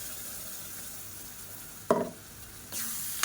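Blended tomato and spices fry in oil for a Tamil vatha kulambu. A faint, steady sizzle runs under a couple of louder scraping stirs of the pan.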